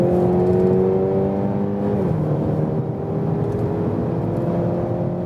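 A luxury sedan in sports mode accelerates hard from 100 km/h, its engine holding a loud, steady, rising drone with layered tonal harmonics heard from inside the cabin.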